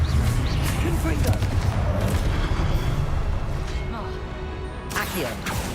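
Confringo blasting curse cast in Hogwarts Legacy, a loud continuous rumbling blast with booming impacts that holds steady for several seconds before easing slightly, with a fresh burst near the end.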